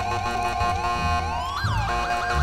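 Ambulance siren in GTA V, a loud wailing and yelping electronic tone that sweeps up and down close by, with rumbling game traffic noise underneath and no talk.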